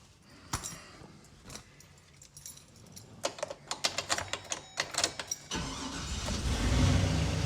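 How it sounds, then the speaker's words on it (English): A long-parked van's engine cranks with a rapid series of sputtering catches, then fires and settles into a loud, steady running rumble close by, with no voices. "The van, it runs"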